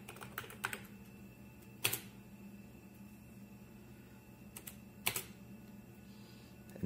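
Keys clack on the keyboard of a 1990 Sharp PC-5741 DOS laptop, typed in short bursts with a couple of louder strikes, close up over a steady machine hum.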